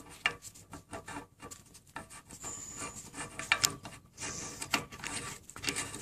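Metal threaded parts of a Detroit Diesel Series 60 DDEC IV electronic unit injector are screwed together by hand in a vise, giving close, quiet scraping and ratchet-like clicking in short, irregular bursts, with no talk.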